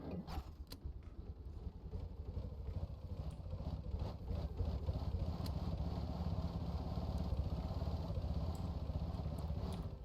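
A boat engine in Stormworks idles low and rumbling with mechanical clatter, the revving building into a steadier, slightly louder drone, heard faint and close with occasional clicks.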